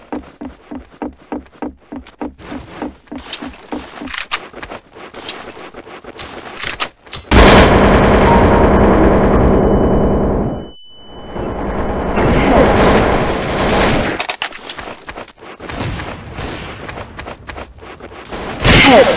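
Gunfire in the game Counter-Strike: Source: a rapid string of sharp shots opens, then heavy sustained bursts and blasts roar loudly, drop out briefly, and swell again into dense firing near the end.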